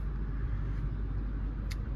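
Traffic noise heard from inside an Audi RS6 Avant sitting in traffic: a steady, muffled low rumble of engines around the car, with a faint brief hiss near the end.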